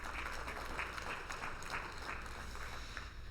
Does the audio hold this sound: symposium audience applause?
yes